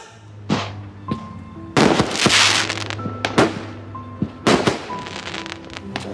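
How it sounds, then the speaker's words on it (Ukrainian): Fireworks burst outdoors in a series of sharp cracks and booms, some close and loud, others fainter, with crackling tails trailing after the bigger blasts. "А звідки у вас салют, а?"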